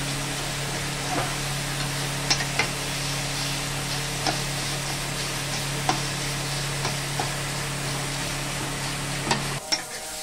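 A steady, even sizzle of jackfruit frying in a pan over low gas, with a low hum underneath and a few faint clicks, ending in a brief clatter.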